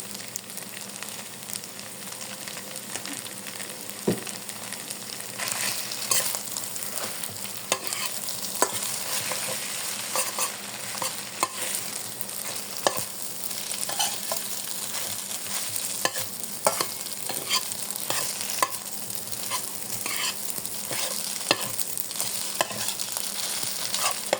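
Glass noodles and egg being stir-fried in a pan with a seasoning of pepper, giving a steady close sizzle with continuous scraping and stirring clatter throughout and no talking.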